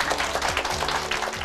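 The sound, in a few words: applause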